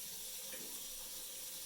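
Household faucet running with the pump on, switched over to hot water, producing a steady faint hiss of flowing water with no change in rhythm and no voices.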